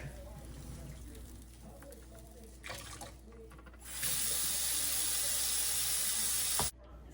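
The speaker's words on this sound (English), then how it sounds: "Add some hot water a little bit to mix it with the cold water." Hot water pours steadily into a bowl of cold water and vermicelli rice noodles for a few seconds with a bright, hissing rush, then stops abruptly; quieter handling sounds come before it.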